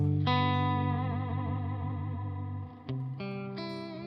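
Open triad chords on electric guitar ring out with heavy reverb and a shimmering chorus-like wash, one sustained chord changing to another near the end.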